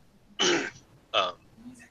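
Two short, sharp bursts of coughing or throat clearing, close and fairly loud, separated by a brief pause.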